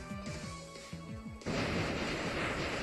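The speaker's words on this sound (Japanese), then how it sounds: "なんでウドハン打ちます。" Wood Hammer attack in a Pokémon Sun and Moon battle, aimed at Nihilego: bright game music with falling blips gives way midway to a loud, sustained crashing impact that fills the rest of the moment.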